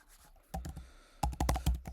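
Typing a message on a computer keyboard produces a close cluster of quick key clicks, one brief burst and then a faster run of taps, with no talk.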